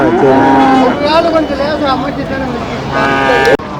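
Cattle low loudly and repeatedly at the Manapparai cattle market, several drawn-out moos overlapping close by amid steady crowd murmur.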